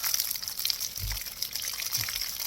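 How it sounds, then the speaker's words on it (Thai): Fresh peaches picked from a Korean orchard being washed in water, a steady broad rush of running water with faint low knocks of fruit, close and alone without talk. "ก่อนล้างก่อนกินเราต้องล้างก่อนนะคะ"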